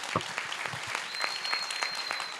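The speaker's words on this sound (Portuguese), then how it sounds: "eu queria pedir de novo uma salva de palmas a todos os brigadistas do Brasil" An audience at a film festival debate applauds Brazilian fire brigade members with a sustained burst of clapping that stays fairly even in volume throughout.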